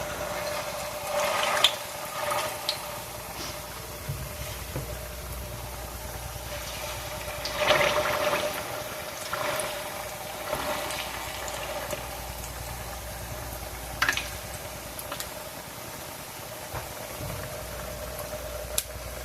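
Homemade potato pancakes fry in a pan with a continuous bubbling sizzle, broken by occasional brief louder crackles and clicks, close and steady with no talking.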